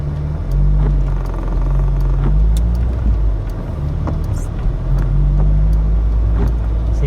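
Mk2 Vauxhall Cavalier driving through town traffic near a roundabout, a steady in-cabin engine rumble with gear-linked pitch shifts and small knocks and clicks, heard from inside the car.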